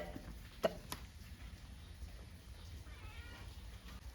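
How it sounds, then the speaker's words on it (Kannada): A cat meows in a home setting, one short sharp cry followed by a second fainter call, with quiet room noise around it. "ಓ, ಈ ಬೆಕ್ಕು ಎದಕ್ಕೆ ಬೊಬ್ಬೆ ಆಗ್ತಾ ಇರೋದು?"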